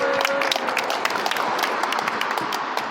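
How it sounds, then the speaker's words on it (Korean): Steady applause from a crowd at an outdoor union rally and cultural event, dense clapping throughout, fairly loud and close. "힘찬 발언해주신 임경택 국장님께 다시 한번 박수 보내드리겠습니다"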